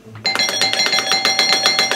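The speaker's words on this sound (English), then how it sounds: "I'm just going to ring his doorbell" A doorbell rings out at a house front door late at night, a bright chiming tone repeating rapidly about a dozen times in a steady, insistent rhythm, loud and close with no talk over it.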